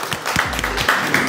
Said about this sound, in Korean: 손뼉 쳐주세요